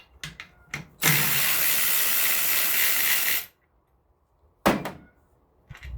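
A ratchet loosening bolts on a Mud Mower transmission: short clicking pulls, then a long steady whirring run of about two and a half seconds, followed by a few more sharp clicks, close and alone.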